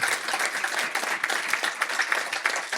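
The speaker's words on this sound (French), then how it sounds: "Alain, vous pouvez l'applaudir assez fort." An audience at a sailing talk show applauds a guest, giving dense, continuous clapping at moderate volume throughout.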